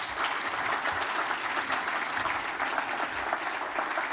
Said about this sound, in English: another big applause perhaps for our rapporteurs would be nice